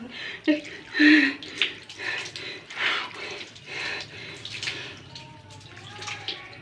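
Water poured slowly from a mug over a person being bathed, splashing in irregular nearby gushes and drips, with voices and cries of cold heard over the pouring.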